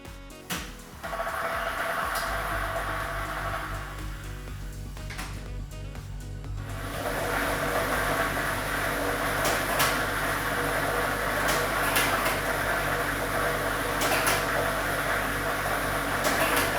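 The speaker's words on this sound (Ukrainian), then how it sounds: "і ми вмикаємо лототрон" A lottery draw machine is switched on for a Loto Maksyma draw, giving a steady loud mechanical whir and rumble of circulating balls after a brief start-up, with no talk over it.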